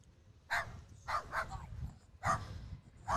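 A dog named Ovo barks in short, sharp bursts at an outdoor lawn bowls tournament, about five barks spaced irregularly. The barks are clear and moderately distant, with no talk over them.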